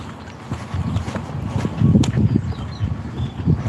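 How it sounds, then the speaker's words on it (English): Hooves of horses walking in a field shared with cows on a morning walk, an irregular run of soft thuds and clops that grows louder midway, close and outdoors. "We've got cows and horses in the same field."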